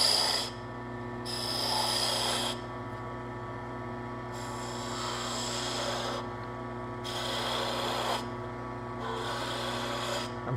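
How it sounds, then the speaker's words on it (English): A 3/8 spindle gouge cuts a cove into a wooden Shaker pull on a lathe, giving soft rasping strokes that come and go in several sweeps over a constant motor hum. "I'm going to go with the spindle gouge 3/8"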